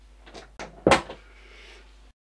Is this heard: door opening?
yes